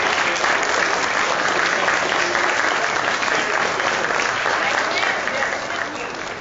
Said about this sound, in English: a round of applause for the kids of the school